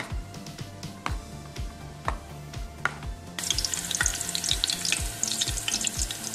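Onions fry until light brown, a moderate sizzle with a steady rhythm of spatula scrapes and taps on the pan, the frying growing louder and more crackly halfway through.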